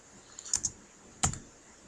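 A few quick keystrokes on a computer keyboard, two close clicks followed by another after a pause, close and fairly quiet in an otherwise still room.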